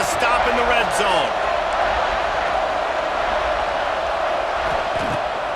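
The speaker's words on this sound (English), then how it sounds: "The crowd getting behind this defense as they try to get a stop in the red zone." A stadium crowd roars in EA Sports College Football 26 as the defense tries for a red-zone stop. The steady, loud cheering wash runs throughout, with a few brief whoops near the start.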